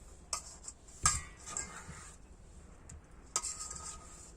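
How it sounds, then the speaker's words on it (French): Gentle mixing of a fruit salad of melon balls, strawberries and raspberries, giving a few soft utensil clinks and light scrapes against the bowl, spaced apart and fairly quiet, with no talk. "Et délicatement, on va bien le mélanger."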